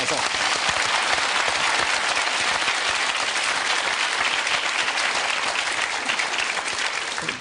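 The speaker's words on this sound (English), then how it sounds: "Let's give him a round of applause for that." A studio audience breaks into a sustained round of applause, dense and even clapping from many hands that holds steady throughout and tapers slightly at the end.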